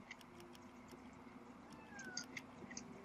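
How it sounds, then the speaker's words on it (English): A cat in the video game Yonder gives soft, brief meows that rise and fall, faint over a quiet outdoor ambience, with no voices. "I hear a cat and I want to get that cat so bad."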